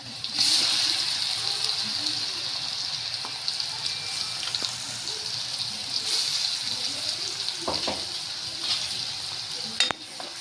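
Garlic and chili spice paste frying in a pan with onions, a bright, steady hiss of sizzling oil with occasional stirring scrapes and clinks, close and continuous.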